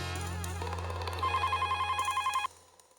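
A telephone rings indoors in a Hindi TV comedy scene, a short electronic ring tone sounding loudly for a couple of seconds before cutting off abruptly.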